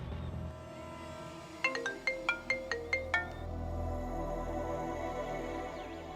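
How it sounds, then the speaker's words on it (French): An electronic phone ringtone in a TV drama scene plays a quick series of about eight bright chiming pulses, moderately loud over a low background hum, with no talking. "Il faut appeler Shoria."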